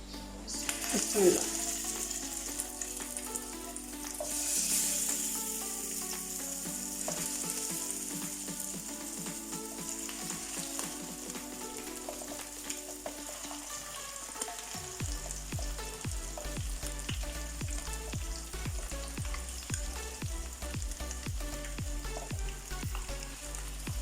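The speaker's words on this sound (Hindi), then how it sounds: "जो कबाब हमने बना के फ्रीज किए हुए थे उनको फ्राई कर लेते हैं" Frozen mutton kababs fry in a pan with a steady soft sizzle and faint crackle, joined about midway by a denser rhythmic ticking and spitting, quiet and close throughout.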